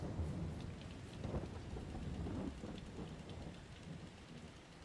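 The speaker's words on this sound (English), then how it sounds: "November rain." November rain falling steadily on a farm heading into winter, a continuous dense patter close by with a low rumbling undertone, no voices.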